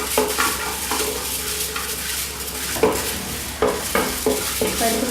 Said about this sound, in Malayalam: പരിപ്പ് കരിഞ്ഞു പോകാതെ, കളറ് മാറിപ്പോകാതെ നന്നായിട്ട് മൂപ്പിച്ച് വറുത്തെടുക്കണം.